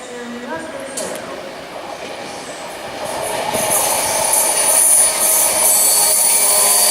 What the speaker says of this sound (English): First train of the day is a Class 390, which is bound for Glasgow Central from London Euston.